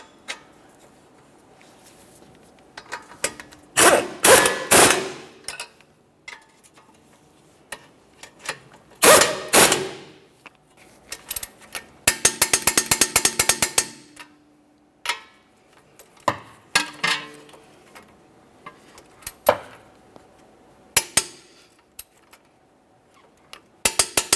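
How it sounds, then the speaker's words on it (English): A ratchet tightening 19mm mounting nuts on a front strut of a 2015-2019 Subaru Outback, several close bursts of rapid clicking separated by quiet pauses, plus a few lighter single ticks. "We'll be holding the bolt head with our 19mm and tightening our 19mm mounting nuts."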